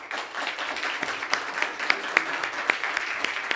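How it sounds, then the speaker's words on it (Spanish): An audience at an executive academy talk on family businesses claps in moderate applause, a dense patter of hand claps with a few sharper individual claps standing out, fairly close and without talk. "Le pido un aplauso para Fernando."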